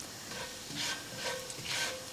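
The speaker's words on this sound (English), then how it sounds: "It's going to start to sizzle because the oil's nice and hot." Cumin seeds sizzling as they hit hot oil in a pan while a spiced pilaf with pistachios and raisins is started, a steady close frying hiss that swells in several soft bursts as the seeds are stirred through.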